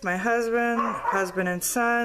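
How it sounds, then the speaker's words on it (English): Dogs bark, yip and whine close by indoors in a quick run of strained, tonal calls, while someone speaks at the same time. "Sorry about the dogs."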